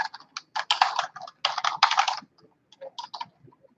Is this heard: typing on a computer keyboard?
yes